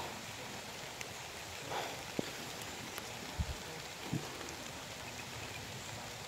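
Steady rain falls outdoors, a dense even hiss with a few scattered louder drops and knocks, no talking heard.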